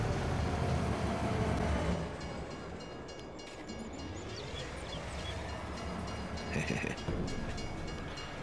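Train on a track in Farming Simulator 22, a loud rumbling rolling noise that dips and swells as it passes, with a brief higher tone near the end, and some faint speech underneath.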